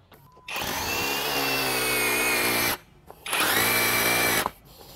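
A Dongcheng DCZC02-28 cordless rotary hammer drills in two bursts, each a loud, close, steady whine lasting a couple of seconds, separated by a short pause.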